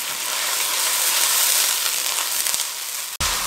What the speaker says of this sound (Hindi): 2 मिनट हम मीडियम फ्लेम पे आलू को इसमें लहसुन अदरक में और ऑयल में फ्राई कर लेंगे